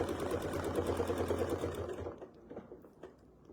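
A sewing machine stitches a quilt block with a fast, even, close mechanical whir that runs steadily, then winds down and stops about two seconds in, leaving a few faint clicks.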